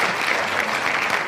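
A crowd applauds in a dense, steady burst of clapping that lasts the whole moment, loud and close.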